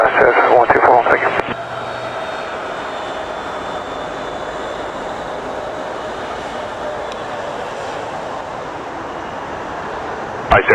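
An IcelandAir Boeing 757 makes a rolling takeoff at twilight, its engines giving a steady broad roar that holds evenly throughout, with a short burst of radio chatter at the start and again at the very end.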